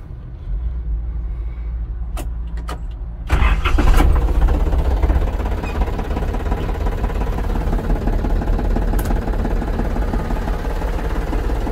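A Japanese Iseki TA287 29 hp mini tractor with a cab cranks briefly and catches, then settles into a steady, loud, close idle rumble that continues.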